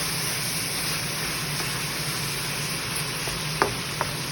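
Meat with seasoning and dark soy sauce sizzling steadily in a pan, a continuous close hiss of frying broken near the end by two brief clinks of a utensil.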